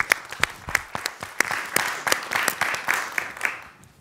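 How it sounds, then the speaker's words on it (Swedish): An audience at a Swedish broadband panel seminar applauds, with sharp distinct claps that thicken into a fuller round of clapping before tapering off near the end. "Jag tycker att vi applåderar oss själva här."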